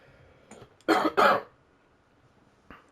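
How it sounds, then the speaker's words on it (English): Two quick, harsh coughs close to the listener, with a faint click before and a small sound after in a quiet room. "Sorry about the cough there."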